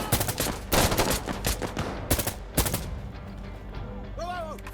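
Rapid bursts of automatic rifle fire in the Insurgency: Sandstorm video game, loud and close, with several volleys cracking over a battlefield din and voices shouting through the exchange.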